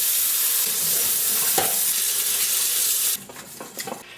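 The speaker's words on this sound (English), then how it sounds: "So first step, we wash the veggies." Vegetables are washed under running tap water, a steady broadband splash that cuts off near the end, leaving brief clatters and drips.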